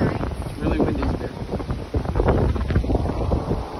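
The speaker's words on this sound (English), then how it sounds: "It's really windy today." Strong wind at a resort in Cabo San Lucas, Mexico buffets the microphone in a steady, roaring rush, with faint voices underneath.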